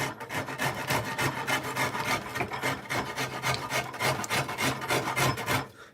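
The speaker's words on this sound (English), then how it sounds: "I'm just going to keep rasping away." Maple selfbow handle being worked with a wood rasp: steady, rhythmic back-and-forth scraping strokes, close and fairly loud, continuing without pause and with no talking.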